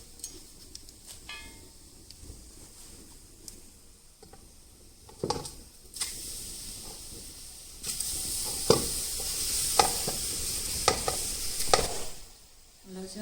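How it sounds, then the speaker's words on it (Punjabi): Raw mango pieces for chutney fry in a kadai while being stirred. A close, steady sizzle grows louder midway, with repeated scraping stir strokes and occasional clatters. "ਦੂਸਰੇ ਪਾਸੇ ਜਿਹੜੀ ਅੰਬੀਆਂ ਸੀ ਆਪਣੀਆਂ ਇਹਨਾਂ ਨੂੰ ਆਪਾਂ ਭੁੰਨਾਂਗੇ"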